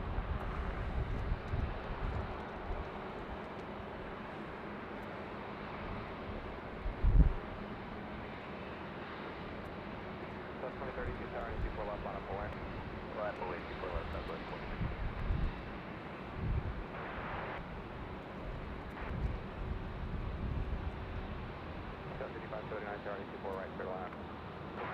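A Southwest airliner lining up for takeoff at LAX, heard as a steady distant engine rumble mixed with wind noise. A brief thump sounds partway through and there is no talk.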